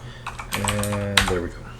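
Computer keyboard typing while configuring a Nutanix HCI virtual machine, a short burst of quick clicking keystrokes heard close, with a voice speaking over the keys.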